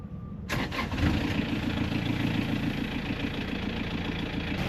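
A boat engine cranks and catches, then settles into a steady, throbbing idle that runs loud and close to the end, with no talk over it.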